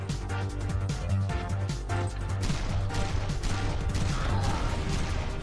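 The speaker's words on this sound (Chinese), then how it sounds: "桶会爆炸啊" In the indie video game Cash Island Adventure, a dense run of blasts, gunfire-like bangs and crashes plays continuously and loudly, with sharper bursts that fit an exploding barrel.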